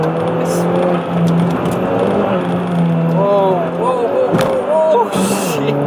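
Renault Twingo 1.2T GT engine revving hard and pulling through the gears, loud and close from inside the car, with rising and falling pitch sweeps and brief gaps at the shifts.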